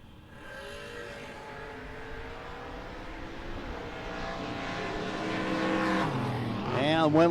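Engines at a no-box 660 drag racing shootout, a 1967 GTX against an S10, build from a distant drone to a rising roar, with the pitch sweeping sharply upward as the cars launch, all under an announcer's voice.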